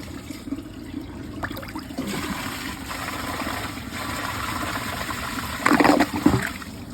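Water rushes steadily through a 2005 Crane Altas toilet after its flapper opens. It is a continuous, close wash of flowing water that surges louder briefly near the end, with no voices.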